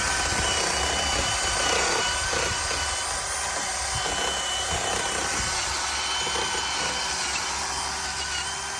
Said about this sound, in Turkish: Matkapla boryamızı etrafını temizliyoruz.